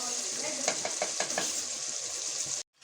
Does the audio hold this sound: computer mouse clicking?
no